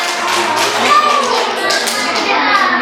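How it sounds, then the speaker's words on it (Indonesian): Young kindergarten children clap their hands during a class performance, rapid uneven claps overlapping with children's voices and chatter in a lively, close-up room. "Tepuk tangan."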